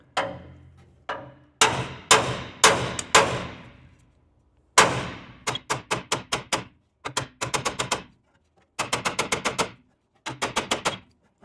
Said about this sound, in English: then we'll start hammer and dollying some of this back down